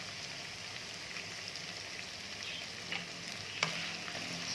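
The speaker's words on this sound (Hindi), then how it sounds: "अच्छी तरह इसे मिक्स कर लिया।" Rice mixture with salt stirred in a frying pan, giving a steady broadband sizzle throughout with a few faint scrapes near the end and no talking.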